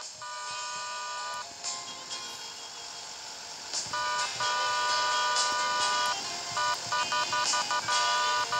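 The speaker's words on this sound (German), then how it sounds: "Man kann hupen." Repeated vehicle horn honks in a game, several sustained tonal blasts in irregular bursts of varying length over a steady background hum, fairly close and clear.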